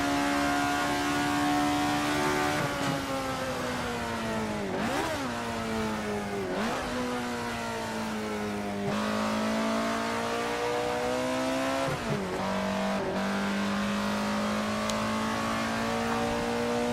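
Alfa Romeo 33 Stradale engine in the racing game Assetto Corsa, revving high and steady through repeated gear changes, each shift dipping the pitch before it climbs again, loud and close with no talk.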